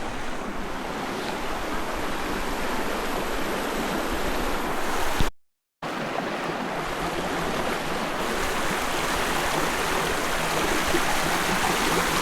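Continuous rushing of a river in Matina Pangi, a broad steady roar close by, with a brief silent gap partway through.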